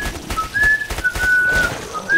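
Someone whistles a thin, high tone in short wavering notes, close and clear, over a noisy rumble of gunfire and in-game action during a Killing Floor co-op match.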